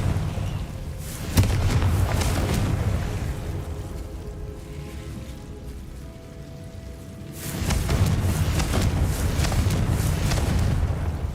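A Confringo blasting spell goes off in Hogwarts Legacy: a sharp, loud burst followed by a heavy, rumbling roar that fades, then a second stretch of dense, booming rumble swells back up.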